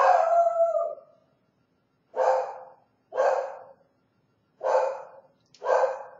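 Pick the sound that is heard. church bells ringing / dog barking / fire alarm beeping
dog barking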